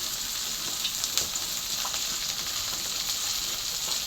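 Food fries in plenty of cooking oil with seasoning, giving a dense, even sizzle that holds steady and close throughout, flecked with faint pops and crackles and no voices.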